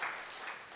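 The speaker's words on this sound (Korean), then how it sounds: "하나님께 영광의 박수를 올려드리겠습니다." Applause from a congregation during a Sunday church service, a dense, steady patter of many hands clapping at moderate distance through a short burst.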